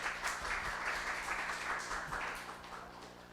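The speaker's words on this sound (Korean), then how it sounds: "박수로 맞이해 주세요" An audience at a social-economy talk show claps to welcome the second speaker. The applause is a soft, steady patter that carries through the whole stretch and tapers slightly toward the end, with no voices over it.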